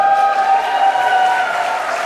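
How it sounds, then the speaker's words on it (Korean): Wedding guests in a convention hall applaud the groom's entrance, a steady, full wash of clapping from a large crowd that holds at an even level throughout, with a sustained musical tone underneath. "신랑 이유진 군이 입장할 때 따뜻한 박수로 함께 축복해 주시기 바랍니다"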